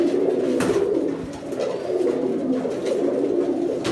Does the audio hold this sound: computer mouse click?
no